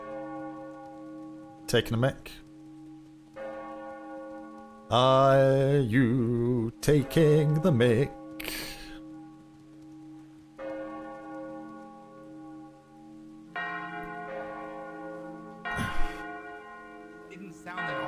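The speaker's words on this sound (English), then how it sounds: "then the war bells started going off" Alarm-style war bells in a video game ring out in bursts between stretches of talk, with a sustained, harmonic bell tone returning several times over the span.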